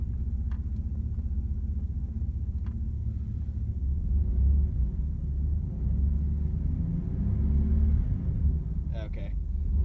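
A 1994 Dodge Dakota pickup with a faulty transmission idles and runs with a steady low engine rumble and a faint rising whine, the pitch shifting as the truck moves, with a brief clunk near the end.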